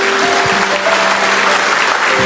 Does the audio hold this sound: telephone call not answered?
no